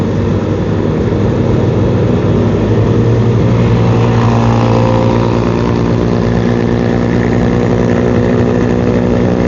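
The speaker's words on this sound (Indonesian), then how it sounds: "Ini gua kecepatan 80, anginnya lumayan ini di flyover." Heavy wind roar buffeting a small action-camera microphone while riding at 80 km/h on an elevated flyover, a loud continuous low rumble with broadband rushing noise and no talk.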